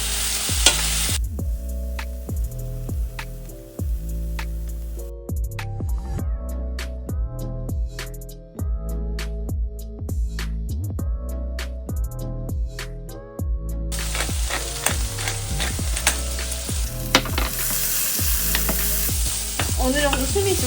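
Spinach stir-frying with garlic in a pan over medium-low heat, a steady sizzle with repeated scraping and stirring clatter of utensil against pan, close and continuous throughout with no talking.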